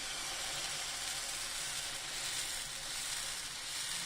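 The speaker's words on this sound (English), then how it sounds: "So now let us spread the batter on a non-stick tawa" Dosa batter sizzles on a hot non-stick tawa, a steady close hiss that holds evenly throughout with no breaks or talk.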